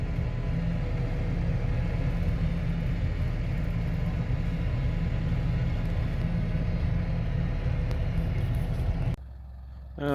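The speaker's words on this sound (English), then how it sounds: "Driving the sheep up with the tractor." A tractor drives with a steady engine rumble, loud and continuous, while herding sheep, cutting off abruptly near the end.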